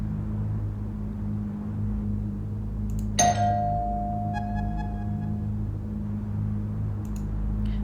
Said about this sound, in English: So, should I knock on the door? Ring the bell?